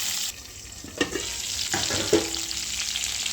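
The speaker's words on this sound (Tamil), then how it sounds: "இப்போ பாருங்கள், இந்த எண்ணெயில் இந்த காய் கொஞ்சம் வதங்கட்டும்." Thorny brinjal sautéing in castor oil, a soft continuous sizzle broken by a few knocks and scrapes of stirring, with one brief ringing tone of metal.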